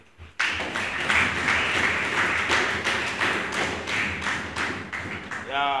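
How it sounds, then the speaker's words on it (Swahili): A student assembly at a parliament dissolution meeting bursts into sustained applause, a dense crowd of clapping hands starting abruptly and continuing steadily, loud and near, before fading with a voice emerging at the end. "Naomba tuwapigie makofi sasa"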